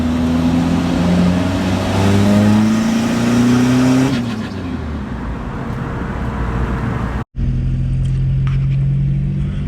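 A turbocharged car engine revs up hard in third gear from out of boost, pitch climbing steadily as the boost comes in quickly before easing off into a steady roar, with a brief cut near the end.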